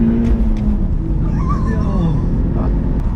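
A BMW E46 318i at full throttle gives a steady, loud low engine drone and rumble from inside the car for about three seconds, with a person talking over it.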